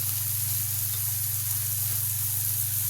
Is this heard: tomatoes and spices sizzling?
yes